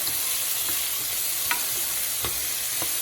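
Two chopped onions frying in a pan for lasagna give a steady, close sizzle with occasional sharp spatter pops and light stirring scrapes, and no voices.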